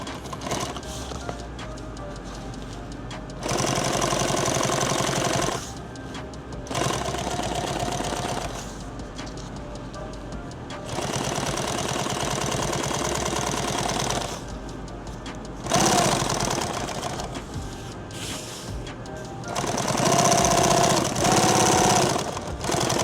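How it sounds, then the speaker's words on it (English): Sewing machine stitching fabric in bursts of steady rapid mechanical chatter, several runs separated by short pauses, fairly close and loud. "So we'll sew it from this side."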